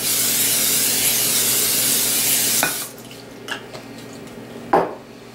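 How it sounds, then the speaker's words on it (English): A continuous aerosol cooking spray hisses onto a baking pan for a few seconds, then stops, followed by a few light clicks and a small knock. "We're going to spray our pan."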